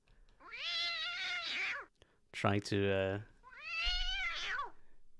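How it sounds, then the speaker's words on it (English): Angry cat sound effects from the World of Tanks video game: two drawn-out, wavering yowls around a harsher buzzing growl in the middle, loud and close, with a brief spoken fragment mixed in. "So we have the angry cat noises"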